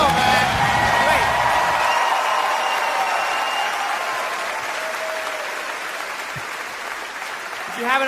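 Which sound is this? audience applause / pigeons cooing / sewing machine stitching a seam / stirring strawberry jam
audience applause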